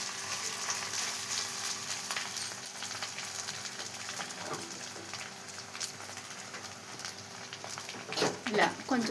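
Hot rice being stirred and mixed in a pan for chitrannam, soft scraping and light sizzling patter running throughout, with a few sharper clinks of the spoon toward the end and a person talking over it.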